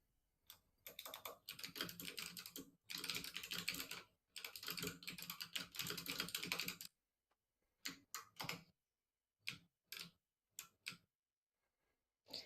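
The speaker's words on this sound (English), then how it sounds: "It might be a loud keyboard, but it sounds awesome." Rapid clacking of a loud computer keyboard, typed in dense bursts for several seconds, then a handful of separate keystrokes after a pause, close up with no talking.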